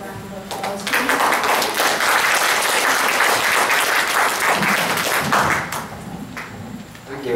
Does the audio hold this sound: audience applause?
yes